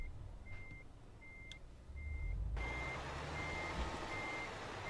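An Eddie Stobart truck backs its trailer in a blind-side reverse, its reversing alarm giving steady evenly spaced beeps over a low engine rumble, with the diesel noise swelling louder partway through.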